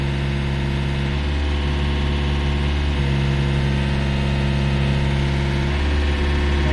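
A Yanmar VIO55-5B excavator engine runs steadily at three-quarter throttle, a loud, constant diesel drone with a deep hum and slight load shifts, heard up close with no talking.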